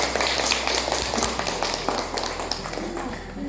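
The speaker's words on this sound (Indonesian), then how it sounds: "Tepuk tangan untuk Dinata." Applause from a classroom of students, a dense spread of hand claps that holds fairly steady for a few seconds, close and moderately loud.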